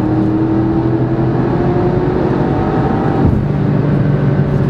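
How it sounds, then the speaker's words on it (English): A 450-horsepower Porsche Cayenne Turbo SUV with four-wheel drive accelerates hard, its engine droning loud and steady from inside the cabin, with a brief dip like a gear change before it pulls on. "we always like to showcase the acceleration of these particular cars, but I'm going to go ahead and hit it now"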